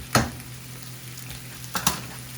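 Butter sizzles steadily in a frying pan as vegetarian jerk vegetable pasta cooks. A soft, even hiss runs throughout, broken by two brief clatters of a utensil.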